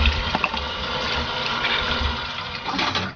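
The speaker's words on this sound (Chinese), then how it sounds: "海螺也清洗一下" Running water splashes steadily while sea snails (conch) are rinsed clean, a continuous near stream with faint shifts in flow and no voices.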